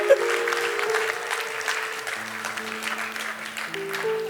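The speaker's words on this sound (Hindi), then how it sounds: "बजाओ तालियां यार" Audience applause at a devotional talk during a Swadeshi fair in Surajgarh, a steady, moderately loud patter of clapping lasting a few seconds with a low sustained hum of a sound system underneath.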